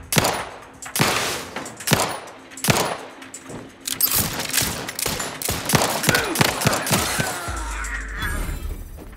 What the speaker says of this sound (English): Did you think shooting up the place was a good idea right now?